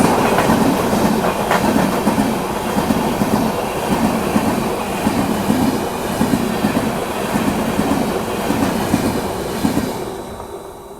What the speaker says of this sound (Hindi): मडगांव मुंबई जनशताब्दी एक्सप्रेस के साथ जो क्रॉसिंग हुई अभी कैसी लगी